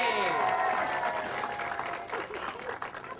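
A street-show audience applauds a competing couple, a dense wash of clapping with a voice speaking over it throughout, steady and fairly loud before easing slightly toward the end.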